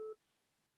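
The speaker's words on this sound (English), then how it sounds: "I'm going to dial her phone" A single telephone keypad tone sounds at the start, a brief clean dual-pitch beep during a call at an online awards ceremony, then near silence.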